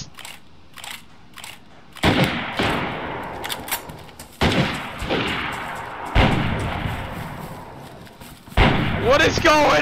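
In the video game DayZ, gunshots ring out as several sharp, loud bursts spread across a few seconds. Clattering noises and a player's shouting voice come between the shots.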